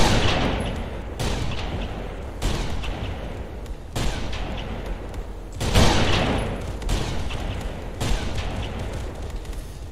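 A military video game battle with repeated heavy volleys of gunfire: loud booming bursts arrive every second or two, each with a rolling rumble that trails off before the next, and nobody speaks.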